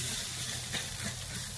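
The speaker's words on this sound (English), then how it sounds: "Go ahead and get a little spritz in there." Liquid spritzed onto ribs, chicken and burgers cooking on a smoker grill makes a steady, moderately faint sizzle and hiss, with no talking.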